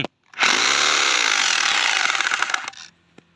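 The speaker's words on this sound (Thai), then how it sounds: "เจาะเอาออกนะฮะ" A power drill bores into a wooden plug blocking an overflow pipe for a septic tank, a loud, steady whining grind lasting about two seconds before it winds down, followed by a faint tap.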